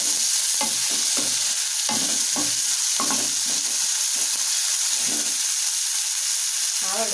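Onions fry in a pan for Udupi-style chicken sukka, with a loud, continuous sizzle and occasional stirring scrapes. A faint voice sits underneath early on.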